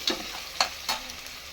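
Salted onions frying in a pan for tomato bath, with three quick scraping stirs over a faint background sizzle.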